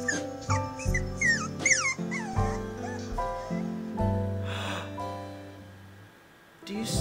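A puppy in the video game Minecraft whimpers and yips in short high cries, then a longer whine with a sniff near the end.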